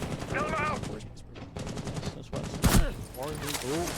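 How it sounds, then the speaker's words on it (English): AK rifle fire in a Rainbow Six Siege esports match, short rapid bursts of gunfire mixed with game effects, heard under a caster's excited commentary. "We got AK taking some shots here"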